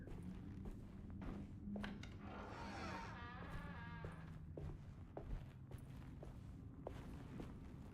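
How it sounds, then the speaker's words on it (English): Footsteps in the horror game Alone in the Dark, a steady, faint series of thudding steps set over a low, dark ambient drone, with a brief eerie tonal wail rising partway through. "Oh man, there's footsteps going on."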